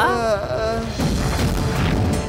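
A deep, heavy boom crashes in after a short voice, followed by a sustained rumbling roar that fills the rest of the clip.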